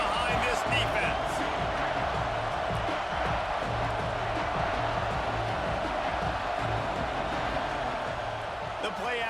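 A stadium crowd roars and cheers steadily in a college football video game between Boise State and Notre Dame on a big third down, a broad sustained wash of noise under game ambience.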